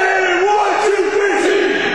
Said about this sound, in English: cheering on your friends at a sports game